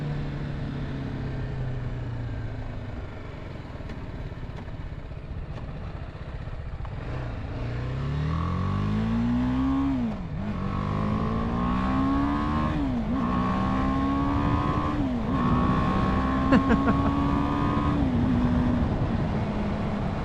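A 2020 BMW G 310 R motorcycle, a beginner bike with a 10,000 RPM redline, rising through the revs while riding, several climbing pulls with brief dips at gear changes, heard close over steady wind and road noise.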